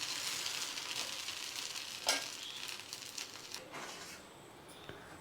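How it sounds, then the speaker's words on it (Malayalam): A dosa made with black gram (urad dal) husk sizzles steadily in a hot pan just after being flipped, a close, continuous bright hiss broken by one brief sharp scrape or tap partway through, with no talking. "ദോശ നമുക്കൊന്ന് മറിച്ചിടാം."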